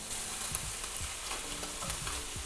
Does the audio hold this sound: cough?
no